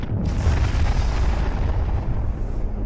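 A massive atomic bomb test detonation at dawn, rendered as a loud, sustained roar of rumbling explosion that fills the low end and rolls on steadily without pause, with no voices present.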